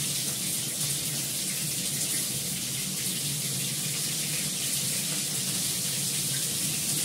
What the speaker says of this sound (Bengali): এখন আমি কোনো মশলাই দেবো না, শুধু লাল করে ভেজে নিচ্ছি নুন দিয়ে, শুধু নুনটা দিয়ে।